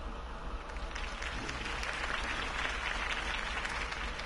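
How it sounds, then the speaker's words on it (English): A crowd at Harvey Dent's campaign speech in the Batman Telltale game applauds. The clapping is quiet but sustained, set over a low background hum and rising slightly midway. "If only Mr. Wayne, my campaign's largest backer, could have heard that applause"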